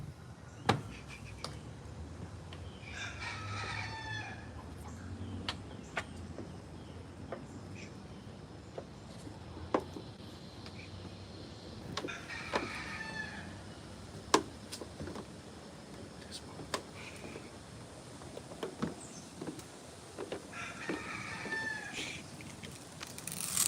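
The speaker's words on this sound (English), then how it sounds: "We finna go see about this damn rooster." A rooster crows several times at a distance, faint repeated calls rising over quiet outdoor background with scattered knocks and rustles between them.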